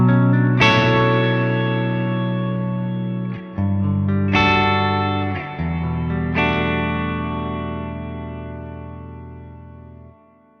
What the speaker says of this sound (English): here's how the reverb sounds without the shimmer mode engaged first